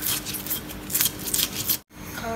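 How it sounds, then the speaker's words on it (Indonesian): Spices ground coarsely with a stone pestle in a cobek, a close, continuous gritty scraping and crushing with rhythmic surges, stopping abruptly near the end with no speech. "Ini aku giling nggak terlalu lembut ya, agak kasar aja."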